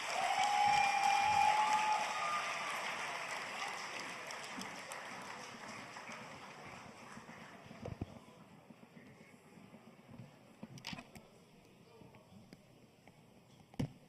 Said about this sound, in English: Please, a very big round of applause for him.